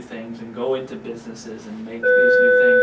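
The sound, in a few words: phone call ringing during interview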